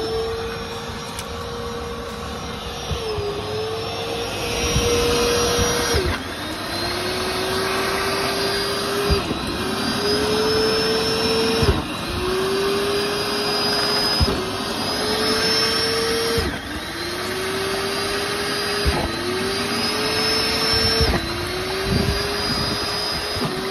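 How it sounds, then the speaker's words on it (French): A pond vacuum cleaner runs loud and steady during spring maintenance of a koi pond, its motor whine repeatedly dipping and rising again in a regular cycle every few seconds. "Je prends une petite pause d'aspirateur"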